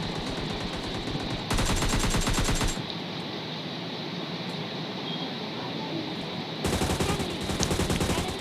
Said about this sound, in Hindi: और इतने में मुझे पीछे से फायरिंग पड़ती है